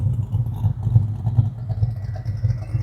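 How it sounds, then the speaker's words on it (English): A 1971 Chevrolet Chevelle convertible's big-block Chevy V8 idles with a rumbling exhaust tone, low steady loping pulses close by, loud and alone with no talking. "Absolutely love the sound of a really nice running big block Chevy."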